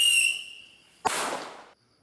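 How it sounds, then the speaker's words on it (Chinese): One sharp firecracker bang bursts mid-clip and trails into a hissing crackle, set off near a schoolyard to drive away monkeys; a high whistling tone fades just before it, and no one speaks. "刷落就放炮仔"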